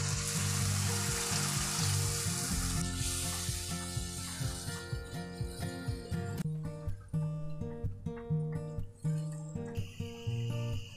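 Water hits a hot pan of turmeric masala for katla fish curry with a loud, hissing sizzle that slowly fades over several seconds. A steady rhythmic music bed runs underneath throughout.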